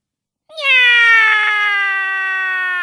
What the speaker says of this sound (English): he sang gently to himself, a cat song.